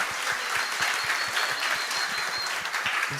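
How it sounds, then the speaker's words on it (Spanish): An audience claps for a winner at a Colombia 4.0 talk on artificial intelligence. The applause is steady and fairly soft, and individual claps stand out throughout the short burst. "Listo, un aplauso,"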